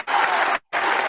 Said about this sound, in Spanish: Te voy a poner otro aplauso.